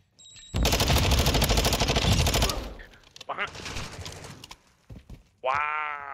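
Rapid automatic gunfire in Call of Duty: Modern Warfare 2, a loud dense burst lasting about two seconds, followed by scattered quieter shots and clatter, then a sharp whining tone at the end.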